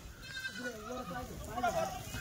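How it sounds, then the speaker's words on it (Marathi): Kathiawadi goats bleating at a livestock sale, several wavering cries from nearby animals overlapping with someone talking. "तर आता शेळ्या आल्या मित्रांनो."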